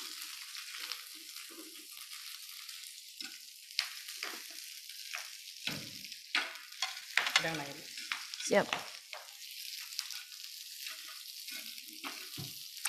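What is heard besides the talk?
raw pak choy frying in a pan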